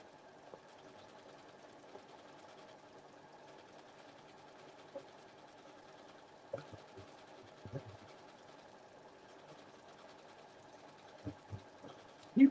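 A sewing machine stitches appliqué with a quiet, steady mechanical whirr, broken by a few soft knocks and clicks near the end.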